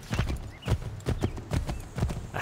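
A horse in Assassin's Creed 3 trotting with rhythmic, close clip-clop hoofbeats throughout, plus a faint whinny mixed in.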